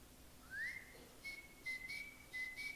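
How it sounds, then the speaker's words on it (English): A person whistles a thin, wavering tune in a quiet indoor setting from a stage play, starting with a rising slide and then holding several sustained notes in short phrases, near and moderately soft. "you started to whistle"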